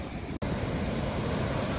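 A constant, loud roar of surf on a beach under heavy rain clouds washes through the whole stretch, broad and unbroken apart from a brief dropout near the start.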